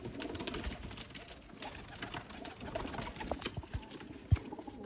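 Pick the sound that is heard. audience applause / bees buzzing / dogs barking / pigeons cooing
pigeons cooing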